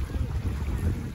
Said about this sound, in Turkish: 10-15 knot arası bir rüzgarımız var.